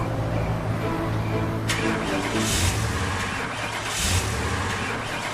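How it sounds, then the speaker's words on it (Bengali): An ambulance engine cranks repeatedly without catching, a rough, continuous mechanical churn with brief surges, close and loud. "গাড়ি স্টার্ট লইতাছে না কেন?"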